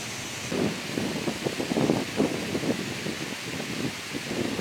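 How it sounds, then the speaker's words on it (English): Dry, brittle autumn leaves rattle and rustle in the wind along the Jersey Bayshore, a steady, soft crackling wash with gentle swells of intensity and no voices. "Listen to the leaves rattling in the wind."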